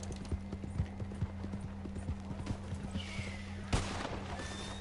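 Horse hooves galloping in a Wild West video game, a quick steady clip-clop rhythm running throughout, with a brief louder bang near the end.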